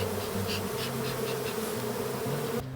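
A honey bee swarm being swept into a hive in August gives a dense, steady buzzing hum that holds close and loud throughout, with no voices.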